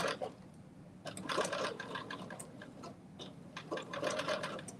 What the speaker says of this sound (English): And now I'm sewing